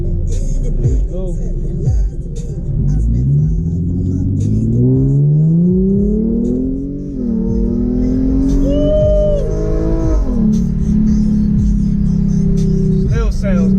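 An Infiniti G37 with a Nissan VQ engine revs up and down repeatedly, its pitch rising and falling in several close, loud sweeps before settling to a steady drone.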